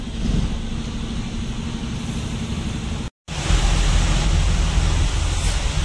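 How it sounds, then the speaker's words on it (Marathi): Heavy rain on a car driving in Mumbai near Bandra, a dense, steady roar of rain and road noise inside the vehicle with no talk. "ऐसा पाऊस, धो पाऊस."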